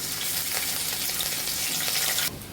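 Ginger hits hot oil already holding fried dry chillies, giving a steady, close, bright sizzle that runs on without pause and softens abruptly near the end.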